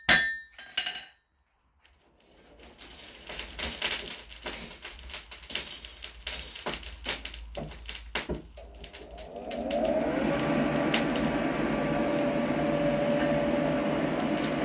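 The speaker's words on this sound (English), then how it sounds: "forge it down. Make sure you keep it nice and square." A blacksmith hammers hot steel on an anvil while forging tongs, sending out a series of sharp, ringing metallic blows in an uneven rhythm. A steady roar, likely a forge burner, then takes over and continues alone.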